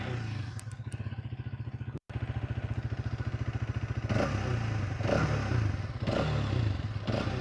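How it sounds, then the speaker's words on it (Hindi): A Hero Xtreme 250 street fighter motorcycle idles and revs nearby, its exhaust note a steady rapid low-pitched pulsing broken by a brief cut, then several short throttle blips that rise and fall. "let's now take a listen to the exhaust."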